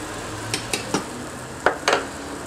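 Food going back into a skillet while cooking crock pot beans: a soft background sizzle broken by five sharp clinks and scrapes of utensils against the pan, close, no talk.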